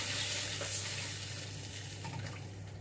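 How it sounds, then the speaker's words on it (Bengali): Water comes to a rolling boil in a pot of raw mango fish curry, a soft bubbling hiss with a faint steady hum underneath, fairly quiet and close. "এখানে জলটা টকবক করে ফুটে গেছে"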